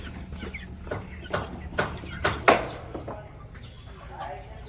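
Chickens cluck at feeding time in a rural yard. Soft, repeated clucks and a few sharper calls rise at intervals over a low, steady background, with people talking faintly nearby.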